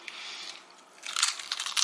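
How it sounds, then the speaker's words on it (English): Crisp, crackly crunches from biting into a crispy fried chicken sandwich, a quieter opening bite followed by a louder burst of several sharp crunches close to the mic. "I hear the crunch. You hear the crunch."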